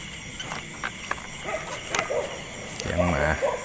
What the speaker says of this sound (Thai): เสียงหมา